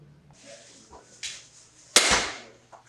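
A Killer Instinct crossbow is shot, heard as a sharp, loud snap followed by a brief rushing release, with a few smaller clicks and knocks before it.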